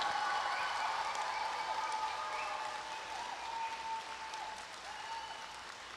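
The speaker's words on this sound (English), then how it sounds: "Please give them a big round of applause." Large audience applause at a University of Guyana convocation ceremony for 2025 Faculty of Natural Sciences graduates, a dense steady wash of clapping throughout, slowly thinning toward the end.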